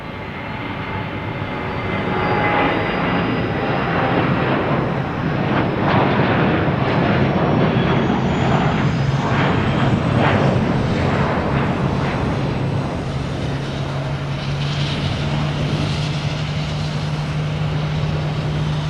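A JetBlue Airbus A320 departs Boston Logan for Orlando, the jet roar building quickly and holding loud and broad, with a rising engine whine and a low steady hum underneath.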